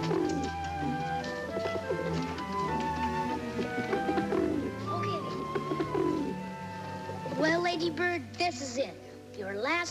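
Racing pigeons coo softly during a trial run before a big race, their calls mixed under swelling orchestral music throughout.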